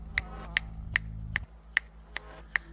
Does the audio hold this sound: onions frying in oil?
no